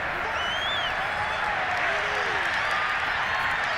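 Steady stadium crowd applause and murmur during a Madden 22 NFL game, Las Vegas Raiders at Cleveland Browns, a dense continuous wash of sound lasting throughout without pauses.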